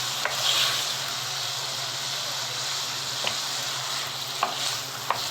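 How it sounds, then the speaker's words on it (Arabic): Simple pasta is stirred in a pot with a small amount of water, making a steady close sizzle and hiss with a few faint scrapes and taps. "بنقلب الأول كويس مع شوية المية الصغيرين دول"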